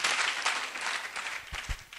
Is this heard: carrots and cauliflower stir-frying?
no